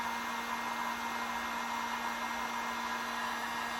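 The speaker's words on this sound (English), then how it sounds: "I'm going to get my heat gun and just dry it" A heat gun blows over a stencilled greeting card, giving a steady, loud, close rushing hiss with a constant motor hum underneath and no break or talk.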